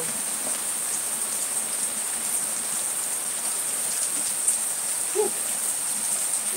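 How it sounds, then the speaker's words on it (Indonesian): Steady heavy rain pours down at night, a dense even hiss that fills the whole stretch with no pauses, with a couple of faint brief knocks near the end. "hujannya gede banget"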